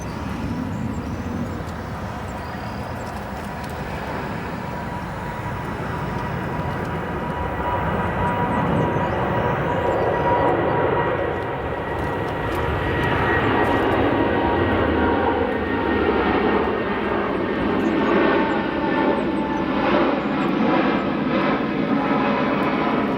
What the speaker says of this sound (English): Very quick departure from that Cargolux 74